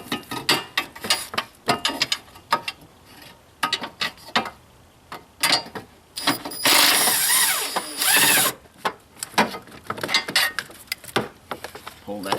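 A power tool spins a nut off the torque strut mount of a Buick Enclave, giving a loud steady whir of about two seconds, with clinks and handling knocks before and after.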